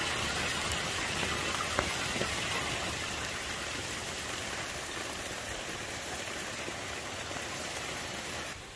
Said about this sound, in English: this is a good rain. This is one of those ones, you know, it's not coming down too fast